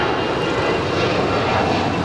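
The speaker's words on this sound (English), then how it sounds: "That was American 413 departing to Phoenix on an A319." A steady, loud roar of an American Airbus A319 jet engine as the airliner departs a runway at LAX, a continuous broadband rush with no talking.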